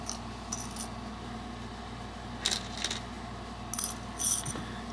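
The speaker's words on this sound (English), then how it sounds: "I better get my safety pins out." Small metal safety pins clink and tick a few times, quiet and close, as they are handled during crochet work on a hoodie, scattered light clicks over a low steady background hum.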